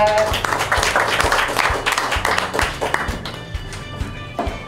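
Audience clapping at a Pyeongtaek disability welfare sponsors' board founding ceremony, loud and close at first, then thinning into scattered, uneven claps and taps as it trails off.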